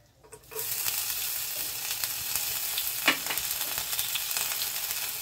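Chopped ginger dropped into hot oil already tempering with two dried red chillies, for a mung bean and spinach dish, bursts into a loud, steady sizzle after a brief quiet start, with a few sharper crackles along the way.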